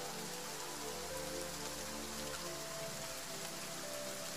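Steady rain falls as a bedtime-story sound effect, a continuous dense patter of drops on a surface, even and close, with no voices over it.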